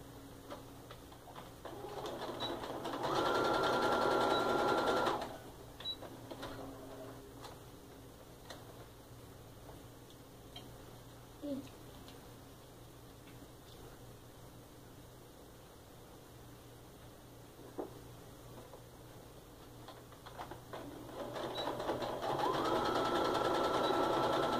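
A sewing machine stitches 3.5-inch quilt strips onto either end of a block, with two loud bursts of steady whirring at the start and end, and a quieter stretch of faint ticks and handling in between.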